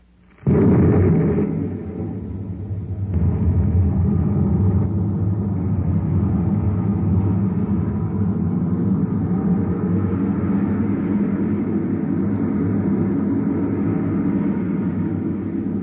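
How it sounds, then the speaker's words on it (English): Spaceship rocket engines fire as a radio drama sound effect, starting with a sudden loud blast and settling into a steady, deep, continuous roar that holds without talk. "Stand by to fire rockets. Half G acceleration."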